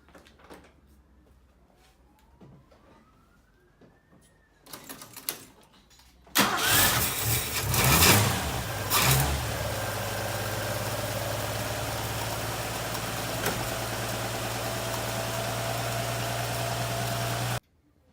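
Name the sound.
car engine starting and idling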